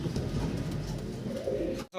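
Soft, low cooing of Bombay pigeons, a steady murmuring burr lasting nearly two seconds before cutting off abruptly.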